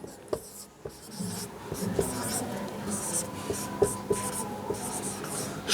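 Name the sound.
chalk or pen writing on a board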